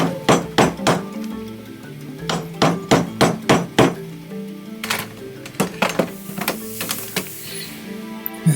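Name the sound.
chiselling strips out of old timber frame with hammer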